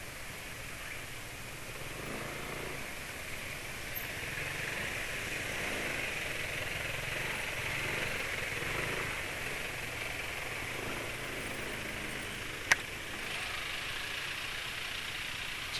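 A motorcycle engine idles smoothly and steadily, a soft low purr running throughout with a single sharp click near the end.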